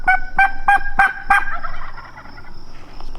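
A wild turkey gobbler gobbles in a rapid burst of five sharp, loud, close notes during an afternoon public-land hunt in Oregon, then falls quiet behind faint ambient noise.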